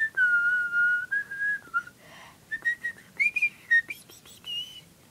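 A person whistles a wavering tune, with sustained notes broken by short stops and breathy chirps, close and clear, with no talking.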